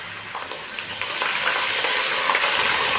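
Blended ginger, garlic and onion frying in a hot pan while being stirred, a steady close sizzle and hiss that grows slightly louder, with soft scraping and no talk.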